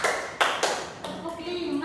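Several sharp hand claps spaced evenly during a counted classroom clapping exercise, close and crisp, with a voice talking over them.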